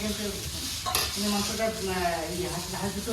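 Food fries in oil in a home kitchen, giving a continuous close sizzle with stirring scrapes in the pan and voices in the background.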